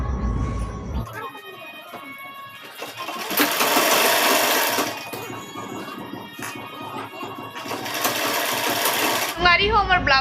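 Sewing machine stitching a blouse, running steadily and fairly loud for most of the stretch with brief surges, while people talk over it.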